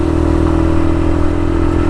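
A Suzuki VanVan RV125 motorcycle engine held at high revs, a loud, steady, buzzing drone with a harsh, insect-like whine that stays close and constant throughout, with no talking.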